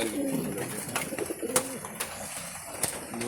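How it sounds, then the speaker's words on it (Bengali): Domestic pigeons, including Humma and red checker birds, cooing in a loft, soft repeated throaty coos close by with a few sharp clicks and rustles. "কিছু কবুতর আছে"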